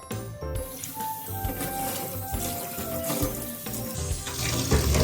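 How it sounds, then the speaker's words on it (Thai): Tap water runs steadily into a sink to cool freshly boiled eggs, a loud close splashing stream that continues unbroken and grows slightly stronger toward the end. "ก็เดี๋ยวแช่น้ำซะหน่อยละ"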